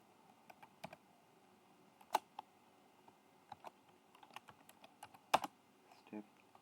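Scattered computer keyboard keystrokes while code is typed for a Kotlin programming tutorial, quiet and close, with irregular taps and a few sharper, louder key hits spread across the stretch.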